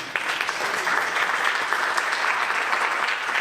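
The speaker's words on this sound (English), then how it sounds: "So can we give them a round of applause and thank them this evening." Steady, dense audience applause fills a school fall jazz concert hall, an even wash of many hands clapping together, loud and sustained throughout with no voices on top.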